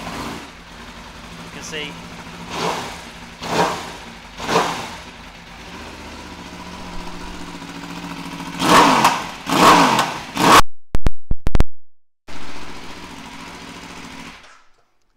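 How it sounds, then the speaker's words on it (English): A 2017 Aprilia RSV4 RF motorcycle with an Austin Racing exhaust fires up close by and barks through several loud revs before settling, a brief voice heard early on. "So if I turn on the dashboard, and we'll give the bike a fire up."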